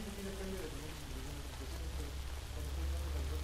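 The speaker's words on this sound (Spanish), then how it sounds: "No, está lloviendo, ¿no?" Steady, close rain hisses without a break in the video game Days Gone, pattering evenly on surfaces with a faint low rumble beneath it and quiet talk mixed in.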